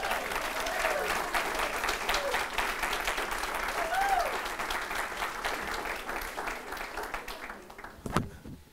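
An audience applauds to honor Jackie Turner's service to Hillsboro, steady crowd clapping with a few whoops over it that tapers off, ending in a single sharp knock.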